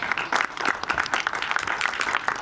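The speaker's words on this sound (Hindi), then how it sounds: "एक बार जोरदार तालियां फॉर हिम।" Loud applause from an audience at a Mumbai press conference for the film Ardaas Sarbat De Bhale Di, a dense, even burst of many hands clapping close by throughout.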